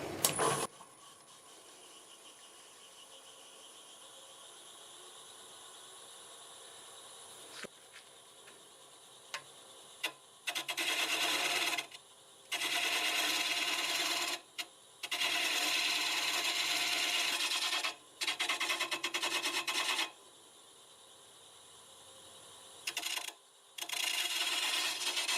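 A turning tool bevels spinning wood on a lathe in several bursts of harsh rasping, separated by quieter gaps of a humming motor.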